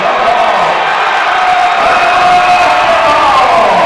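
A basketball arena crowd on its feet roaring and cheering during a men's college game, a loud, dense, continuous wall of shouting voices with whoops, sustained throughout.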